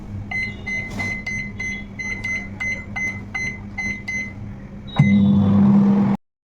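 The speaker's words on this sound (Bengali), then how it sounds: "এইটা পুরোটা ধরে আমি এখন দিয়ে দেবো মাইক্রোভেনে দু মিনিট" A microwave oven crisp-frying pieces of fish hums steadily with faint periodic ticks, then ends in a loud, sustained beep before cutting to silence.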